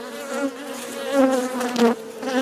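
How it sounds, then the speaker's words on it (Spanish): A wasp and a bumblebee fight, filling the air with a continuous close buzzing drone that wavers in pitch and swells louder in brief surges, with no voices. "Avispa contra abejorro."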